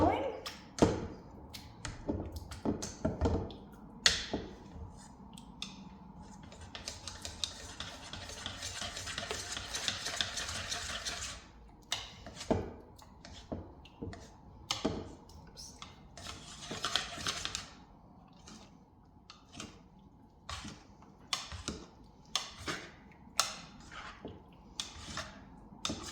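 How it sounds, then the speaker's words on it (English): Potatoes being mashed in a pot: irregular knocks and soft squelching thuds, close by and fairly quiet, with pauses between bursts and a stretch of scraping stirring in the middle. "So I'm just gonna mash my potatoes."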